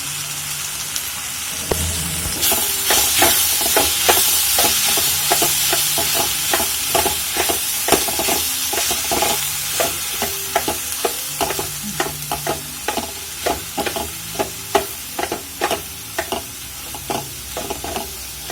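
Palak spinach with grated coconut is stir-fried in a pan under a continuous soft sizzle, punctuated by a steady run of sharp spatula scrapes and taps.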